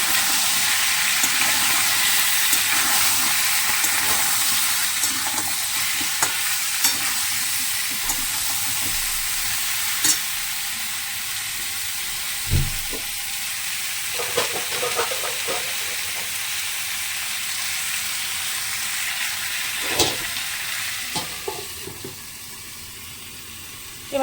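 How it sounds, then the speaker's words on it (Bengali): Salted and turmeric-dusted vegetables frying in a pan, a steady loud hiss of sizzling throughout, with intermittent clatters and scrapes of stirring near the middle and end. "নুন হলো দিয়ে সবজিটা ভাজতে বসিয়েছি"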